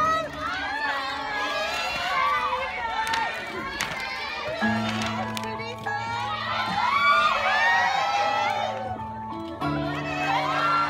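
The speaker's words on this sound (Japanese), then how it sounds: "谢谢大家，让我们再次以热烈的掌声欢送 Chris。" A theater audience at a film stage greeting cheers, shouts and claps to send off an actor named Chris, a dense, loud crowd roar that swells and dips, with sustained music tones underneath.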